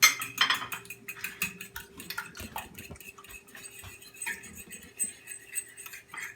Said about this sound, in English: I'm going to fluff those up with a fork